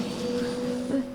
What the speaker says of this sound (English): Chopper immediately flew away.